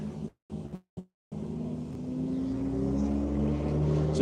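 A race car pulls out onto the track during the One Lap of America session at Hedge Hollow, its engine rising steadily in pitch and loudness after a few brief silent gaps.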